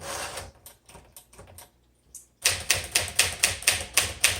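Keys clack on a 1958 Smith Corona Sterling typewriter, first in light, scattered taps and then in a run of loud, evenly spaced strikes close up.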